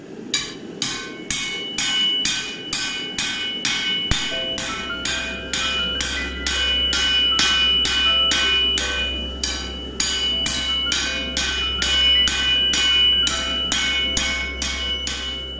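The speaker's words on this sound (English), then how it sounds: "this is just me hammering the chamfer" Rhythmic hammer blows on a steel blade at the anvil, forging the chamfer at Silver Anvil Forge, loud ringing strikes in a steady cadence, sometimes doubled, with a low continuous hum underneath.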